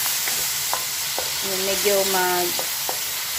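Tomatoes frying in oil, with pork to follow, crackle and hiss steadily up close, broken by light stirring taps while a person speaks briefly over the sizzle.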